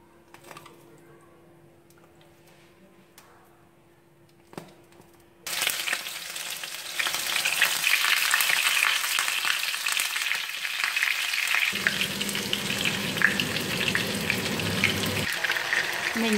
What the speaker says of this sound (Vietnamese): Khi dầu sôi thì các bạn cho cá vào chảo luôn.